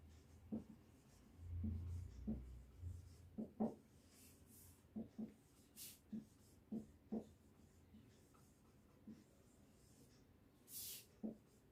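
Chalk or marker writing on a classroom board during a class 10 physics lecture, heard as a series of short, faint taps and scratches in an irregular rhythm, with no talk over them.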